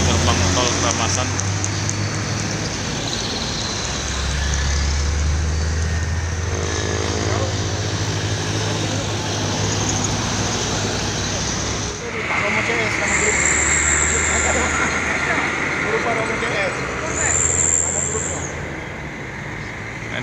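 Buses and other traffic pass through the Keramasan toll gate at night, a steady, loud engine and road rumble that swells and fades, with brief high-pitched tones near the end.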